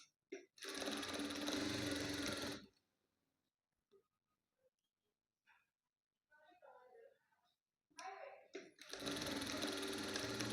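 Sewing machine stitching blouse piping strips together, two loud, close bursts of rapid mechanical running at the start and end, separated by a quiet gap with a few faint handling clicks and brief soft talk.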